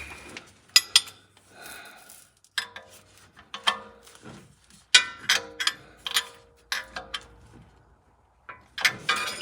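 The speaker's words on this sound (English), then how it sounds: "Tighten it up with a wrench." Metallic clinks and ratcheting clicks from a wrench tightening a Fumoto quick oil drain valve under a Ford F250 6.7 Powerstroke, in close, irregular bursts separated by short pauses.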